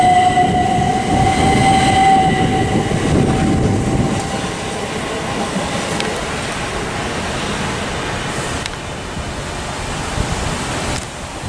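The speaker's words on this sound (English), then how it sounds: "Southeastern Electrostar Class 377s. Oh, 375s" A Southeastern Electrostar Class 375 electric train passes through High Brooms Station, its loud rumble and high traction whine strong at first, then easing into a lighter rolling clatter as it moves away.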